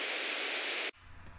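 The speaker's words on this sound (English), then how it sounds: "In our example, we have a sound, in the case white noise" Steady broadband white noise test signal, loud and even, cutting off abruptly partway through and leaving only a faint low hum.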